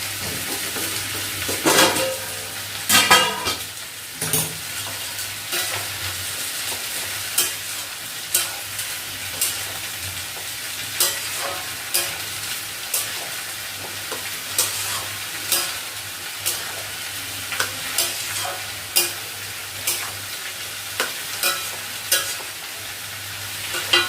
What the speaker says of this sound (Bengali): একটু লাল লাল করে ভাজবো